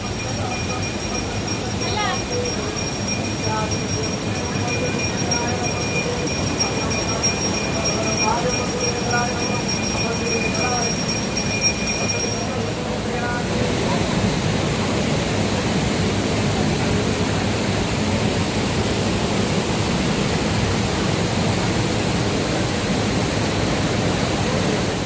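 Strong waterfall at the Panchalingeswar shrine in Balasore, Odisha, roaring as a steady, loud broadband rush that runs unbroken throughout, with a faint high whine over the first half.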